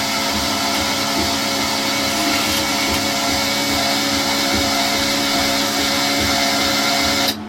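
An old MIG welder's wire feed motor runs as a steady, loud whirring drone, pushing welding wire through to the end of the gun, then cuts off abruptly at the end.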